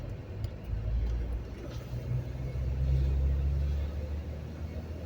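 A car cruising along the road, its engine and tyres making a steady low rumble from inside the cabin that swells slightly midway, with no talk over it.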